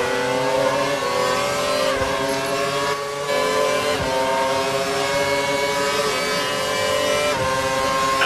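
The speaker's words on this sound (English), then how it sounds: "the car ahead is trying to create a gap. He's running full revs, maximum power." Formula One race car engines from the F1 2012 racing game scream at full revs in a continuous, loud, high-pitched whine, with the pitch dipping briefly at shifts and no voices.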